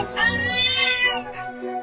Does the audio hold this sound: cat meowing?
yes